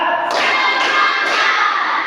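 Students in a junior high maths class clap in unison three times at an even pace, crisp and near, the bursts ringing in a reverberant room.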